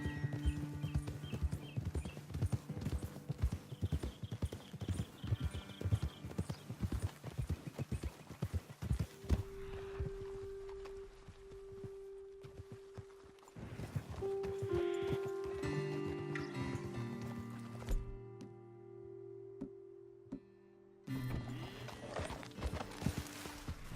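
Horse hooves clip-clopping at a steady walking rhythm in the video game Red Dead Redemption 2, close and clear, with a brief whinny and soft background music later on.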